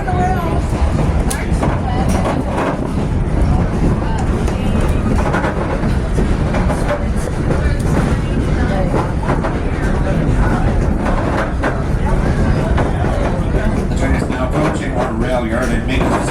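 A passenger train heading toward Mount Rainier rumbles and rattles continuously at close range, a dense rolling clatter that persists throughout, with someone talking over it.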